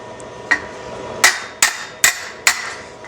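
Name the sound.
hammer on metal against a dolly, ringing contact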